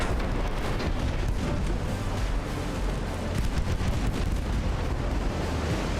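Continuous rumbling explosions and distant booms roll on without pause during a 1902-era naval battle in Ultimate Admiral: Dreadnoughts as torpedoes strike a warship, a dense low roar with no voices.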